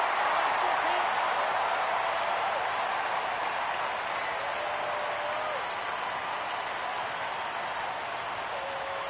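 A stadium crowd roars steadily in the baseball video game MLB The Show 17 as the count goes full at 3-2, a dense, continuous wash of noise that barely changes in loudness.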